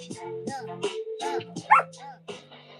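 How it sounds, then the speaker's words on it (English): A few short yips and barks from a dog close by, uneven and whiny, with soft whimpering between them. "Are you barking at me?"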